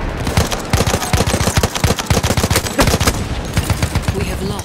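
Sustained machine gun fire in the Battlefield 1 Conquest map Neuville at night, a loud rapid stream of shots with a steady rattling rhythm, overlapping bursts and a little background battle noise.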